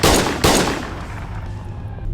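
Gunfire in the game Schedule 1: two close, loud shots in quick succession, each with a sharp crack and a rumbling tail that fades out over about two seconds.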